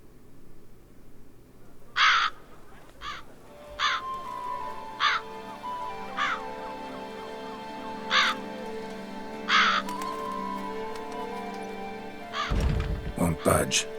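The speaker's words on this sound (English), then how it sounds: "Lots of crows. Whole place is filled with them." Crows caw repeatedly in The Witcher 3: Blood and Wine, a flock of harsh calls scattered over several seconds against steady ambient game sound, ending with a dull thud and a burst of louder noise.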